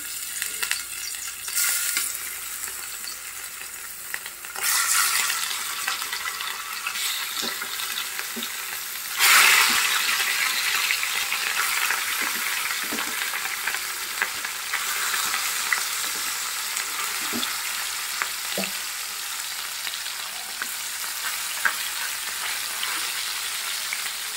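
Pieces of catla fish fry in hot oil for a fish curry with winter vegetables, giving a steady close sizzle throughout with occasional spatter bursts and light utensil knocks, no talking.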